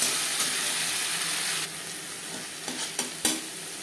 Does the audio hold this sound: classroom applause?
no